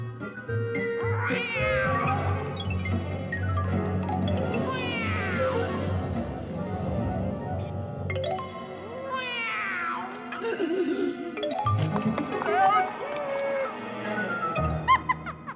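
A voice imitates a cat in an animated story, producing loud, drawn-out meows and wailing caterwauls in several long, rising and falling calls close to the listener.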